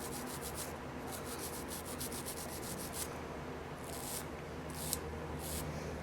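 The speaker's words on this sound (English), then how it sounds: "Let's clean them off first." Cleaning off a cracked small plastic gear produces a steady, faint scrubbing and rubbing texture, with a few brief sharper scratchy strokes near the end.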